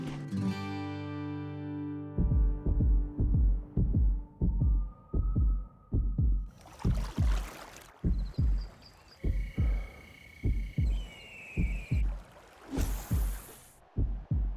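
A loud, steady heartbeat thumps at a regular resting pace, roughly twenty close double beats, with bright electronic tones and brief whooshing bursts layered over the rhythm.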